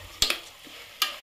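Salt being stirred into soaked rice in a pressure cooker: two short scraping stirs close together, a soft pause, then one more scrape before it cuts off.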